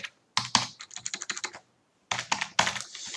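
Fast bursts of close computer-keyboard typing while entering Python code, with rapid clustered keystrokes, a brief pause in the middle, then another quick run of keys.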